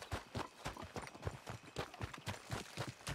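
Horse hooves clip-clop in a fast, steady rhythm in the Red Dead Redemption 2 video game, a continuous run of crisp, fairly quiet hoofbeats with no voices.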